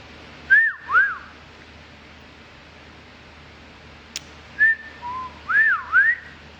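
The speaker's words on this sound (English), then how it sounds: "you know what they say about people that know how to whistle?" A single person whistles alone in a series of short swooping, rising-and-falling notes with gaps between them, close and clear over a quiet background with a faint click partway through.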